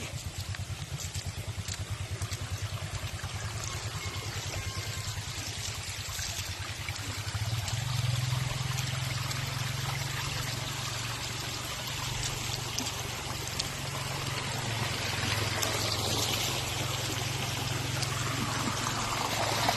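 Floodwater rushing through a flooded rural village in the Philippines, a steady loud churning flow with a low rumble underneath that swells slightly partway through and runs continuously.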